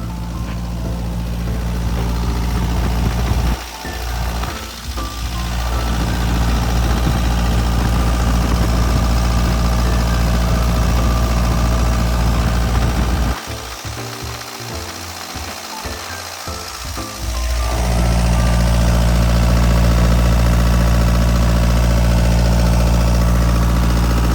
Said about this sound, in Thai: เป็นเครื่องยนต์สี่สูบนะลูกค้านะครับ